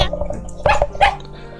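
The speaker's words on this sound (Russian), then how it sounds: "Собачонка подняла уши, одобрительно гавкнула и побежала следом." A small dog in the video game Tiny Bunny gives two quick, sharp barks, close and fairly loud, over a low, steady ambient hum.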